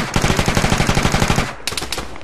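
Rapid automatic gunfire in the military game Arma 3, a loud, fast burst of evenly spaced shots, a short pause, then a second shorter burst close by.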